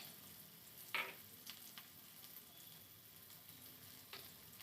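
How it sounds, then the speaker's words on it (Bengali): Chopped onion frying in hot oil in a wok for a Bengali rohu fish dish, giving a steady low sizzle with a few sharper crackles and stirring clicks, close and alone with no talk. "এখন কড়াইতে যে তেলটা আছে তার মধ্যে আমি পেঁয়াজ কুচি দিয়ে দিয়েছি"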